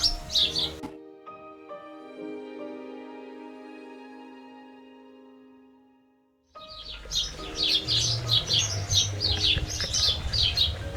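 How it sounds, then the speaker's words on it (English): Several birds chirp and tweet busily at the start and again near the end, with a long stretch of sustained tonal hum between them. "My goodness, the birds are noisy."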